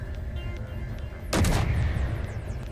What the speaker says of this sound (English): Here's my last shot.